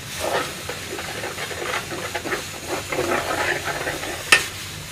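Masala with ground tomato fries in a pan while being stirred, a steady close sizzle and hiss broken by scraping strokes and one sharp clink near the end.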